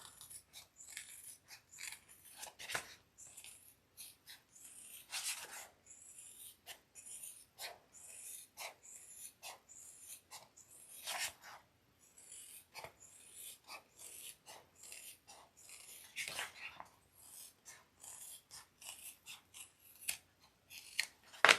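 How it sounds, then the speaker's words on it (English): Scissors trimming the seam allowance of sewn fabric, a string of quiet, close snips and crisp blade closures in irregular bursts, with faint handling rustle between cuts. "I'm just going to trim this down a little bit because I don't want all this thickness"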